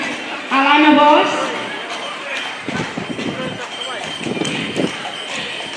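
Horses' hooves clip-clopping on pavement at the Sant Antoni Abad horse festival parade in Olot, a carriage procession with many horses; irregular nearby hoofbeats under a loud announcer's voice and crowd murmur.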